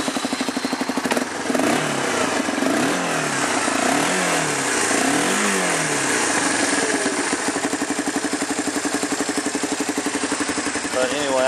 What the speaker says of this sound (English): I revved it up a little bit so you could hear it run.